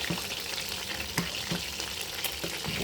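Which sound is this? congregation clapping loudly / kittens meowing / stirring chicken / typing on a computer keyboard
stirring chicken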